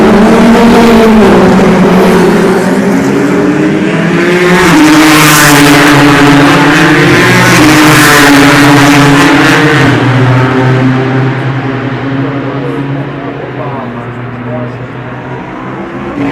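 Toyota race cars at the 2016 24 Hours of Le Mans roar close and loud, their engine pitch climbing and falling as they pass, with voices talking over them.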